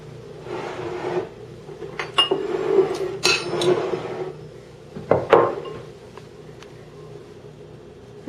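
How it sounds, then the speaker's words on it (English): A spoon works honey into peanut butter in a bowl, making intermittent scraping and clinking against the sides, with quiet stretches between strokes. "Now I'm going to mix in the honey with the peanut butter."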